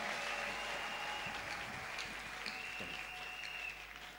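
A church congregation applauding during a sermon, a steady wash of clapping that carries on without pause, at moderate volume, easing off slightly at the end.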